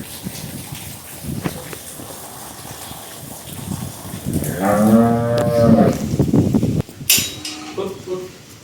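A cow moos loudly nearby, one long drawn-out call in the middle, with scattered clatter and rustling before and after.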